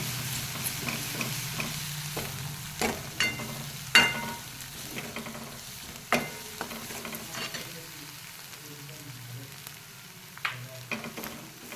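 Spatula stirring a green chilli pithla mixture in a pan, a series of irregular scraping clicks and knocks over a low steady sizzle, close and moderately loud with no talking.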